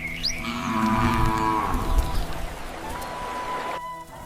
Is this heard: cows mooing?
yes